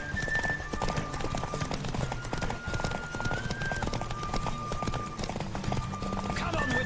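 A horse gallops in The Witcher 3 video game, with rapid, rhythmic clip-clop hoofbeats running continuously under game music and a voice speaking over them.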